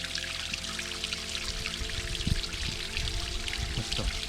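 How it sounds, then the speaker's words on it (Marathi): Spring water pouring steadily into a bottle at a natural source near a rock-climbing trail, a continuous close trickle with a few small splashes and no talk. "तर आता आपण पाणी भरूया"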